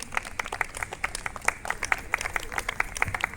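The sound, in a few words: audience applause continuing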